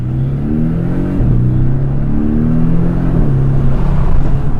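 A Porsche 718 Boxster S accelerating hard, its engine note climbing steadily through rising rev sweeps with brief dips at gear changes, loud and close from inside the convertible.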